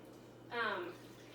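Water poured into a blender for a smoothie gives a short, bright splashing pour lasting about half a second, alone over a quiet room background.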